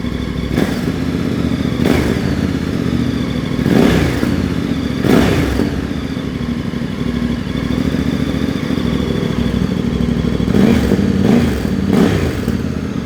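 A VOGE DS800X Rally motorcycle with a Scorpion aftermarket exhaust idles with a deep, loud burble, punctuated by several short throttle blips spaced a few seconds apart.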